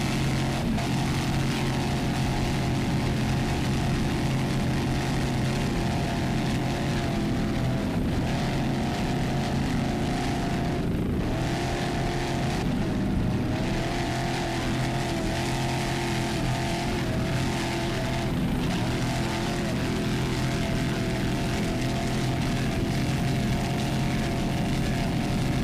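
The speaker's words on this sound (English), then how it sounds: "Screamin' Nuts is a 30-foot Phantom. It's a Chevy-powered boat." A Chevy-powered 30-foot Phantom racing powerboat roars steadily throughout a 2002 APBA world championship offshore race, a loud, unbroken engine drone with faint shifts in pitch.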